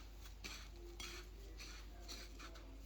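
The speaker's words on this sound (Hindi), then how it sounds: "इसको अच्छे से हम मिक्स करेंगे। ठीक है, ताकि ये चीनी जो है ना ज़ाया ना हो।" Sugar being stirred and mixed in a bowl for homemade cotton candy, a spoon scraping and clinking against the bowl in several brief bursts with a steady low hum underneath.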